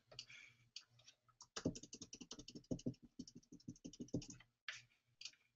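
Computer keyboard typing in rapid, irregular clicky bursts, close and fairly quiet, with brief pauses between runs of keystrokes and no voices.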